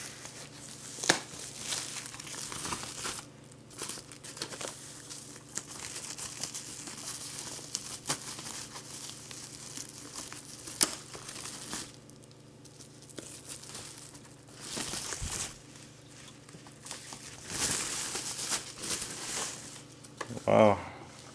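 Packaging crinkles and tape tears as a taped Xbox 360 Slim console is unwrapped, with intermittent rustling and plastic crackles under a low steady hum and occasional talking.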